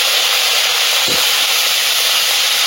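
Red amaranth leaves go into a hot pan over a wood-fired clay stove, setting off a loud, close, continuous hissing sizzle that barely varies before ending abruptly. No one speaks.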